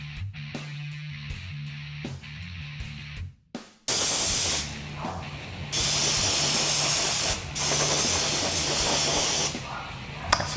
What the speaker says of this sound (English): This is a little Pash airbrush.